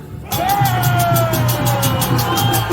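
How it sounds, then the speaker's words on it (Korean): Rally crowd outside the presidential office in Yongsan, Seoul, bursting into a loud sustained roar of shouting and cheering that starts abruptly and holds steady for several seconds. "자 3초 동안 함성 시작!"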